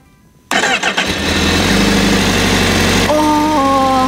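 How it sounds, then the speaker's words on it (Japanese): A Honda CBR1000RR-R sport motorcycle engine cranks and fires up after a brief quiet start, then settles into a loud, steady idle with a tonal whine close to the microphone. "エンジン始動、いきます。"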